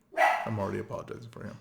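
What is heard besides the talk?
dog barking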